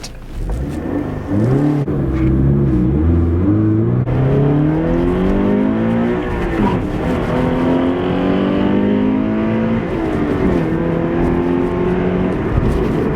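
A 2017 Subaru BRZ accelerates hard from a standstill to 60, its engine revving up through the gears with rising pitch sweeps broken by brief shift dips, loud and steady inside the car with no talking.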